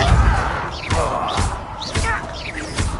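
Repeated Depulso force-push spell impacts in Hogwarts Legacy on PS5, a series of heavy thuds and whooshing blasts roughly every half second, loud and close, mixed with other spell effects.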